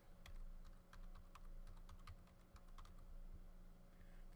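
Typing on a computer keyboard while laying out an Inkscape title card, a steady run of light, close key clicks with a faint background hum.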